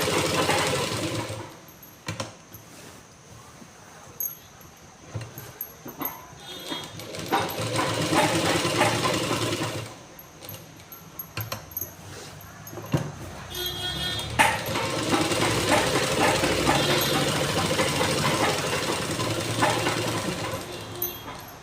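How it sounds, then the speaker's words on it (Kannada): A sewing machine stitches a blouse in rapid mechanical bursts, running for several seconds, pausing, then starting again, close and loud with no speech. "ಅದಕ್ಕೆ ಫಿನಿಶಿಂಗ್ ಸ್ಟಿಚ್ಚನ್ನು ಕೊಡ್ಬೋದು"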